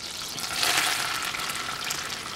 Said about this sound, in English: I've got my butter melting